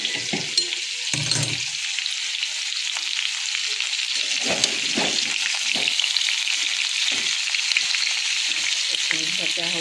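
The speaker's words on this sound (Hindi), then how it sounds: "अदा रसुण भाजी हो" Ginger and garlic fry in a pan ahead of mutton curry, giving a close, bright sizzle with scattered stirring knocks and clatter, no talking.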